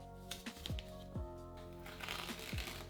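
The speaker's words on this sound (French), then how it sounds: "on va venir mettre du scotch tout autour de notre pièce en carton" Double-sided tape being peeled and pressed around a cardboard piece in several short crackling, sticky pulls, close and fairly quiet, spaced a second or so apart.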